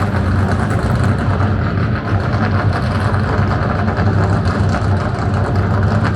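An old Ford car's engine rumbles loudly and continuously at a racetrack party outside Talladega, a heavy, steady low drone with slight fluctuations and no talking.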